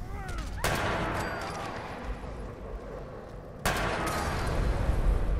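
Gunfire in modded Fallout 4 comes as two sharp, loud pistol-like shots separated by a few seconds. Each crack is followed by a long rumbling tail of battle noise, with no talk over it.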